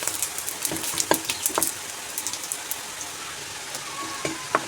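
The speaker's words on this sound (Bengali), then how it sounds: "মাছের মাথা ভাজা তেলে দিয়ে দেবো পাঁচ ফোড়ন আর জিরে, আর দিয়ে দেবো একটা তেজপাতা।" Panch phoron, cumin seeds and a bay leaf crackle in hot oil left from frying a fish head, with dense continuous sizzling and scattered sharp pops from the spices.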